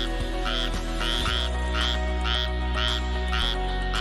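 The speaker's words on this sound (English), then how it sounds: "look, it is a frog." A frog croaks nearby in a regular series of about seven calls, each a short raspy pulse spaced roughly half a second apart, over a constant low hum, with no voices.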